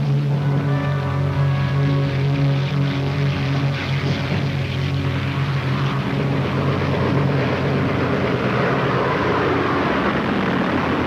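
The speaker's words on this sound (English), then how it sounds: "The attacking aircraft swept aside the few fighters the Japanese carriers had left and savaged Admiral Ozawa's fleet" Propeller-driven military aircraft of a WWII carrier air strike drone steadily with a continuous loud engine roar, tonal hum layered over broadband noise throughout, no talk.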